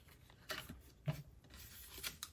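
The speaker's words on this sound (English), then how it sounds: "you can just take your fine tip scissors and do your final little snips to release this" Fine tip scissors make a few small, close snips through a paper card frame, releasing a cut-out piece for a standing frame card. Three or four short crisp cuts land about half a second apart over quiet room noise, with no talking.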